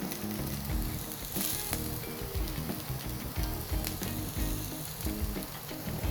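Shallots and garlic sizzle and fry in hot olive oil in a pot, a steady crackling hiss running throughout with some low clatter of the pot, close and fairly loud with no speech.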